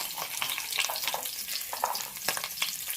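Chopped onions fry in hot oil for vegetable kurma with a dense, continuous sizzle up close, broken by occasional scraping stirs.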